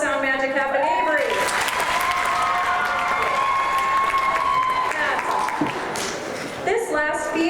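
Audience at a school concert applauding, a full, steady wash of many hands clapping close by for several seconds, easing off near the end as a voice begins to speak.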